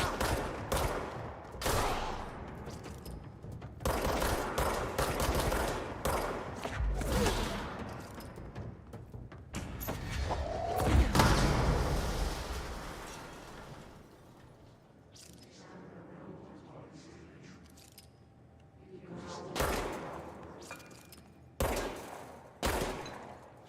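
Gunfire in the video game Control, repeated bursts of rapid shots and heavy impacts that come in dense clusters, ease into quieter rumbling mid-way, then return as a few sharp separated blasts.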